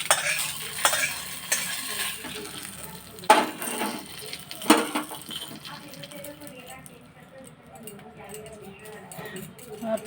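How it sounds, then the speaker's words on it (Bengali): Mustard seeds tempering in hot oil, poured over star fruit: a hissing sizzle with utensil clatter and a couple of sharp pops or knocks, fading to a softer simmer while a person talks throughout. "সর্ষেগুলো কীরকম ফটফট করে ফুটে আওয়াজ করছে"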